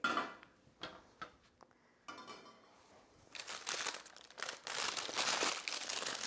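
Parchment paper crinkles and rustles up close as freshly baked hot cross buns are pulled from a baking tray, with scattered crackles early on that grow into longer, louder crumpling.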